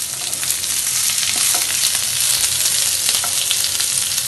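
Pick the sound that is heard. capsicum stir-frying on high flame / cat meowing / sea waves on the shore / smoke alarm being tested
capsicum stir-frying on high flame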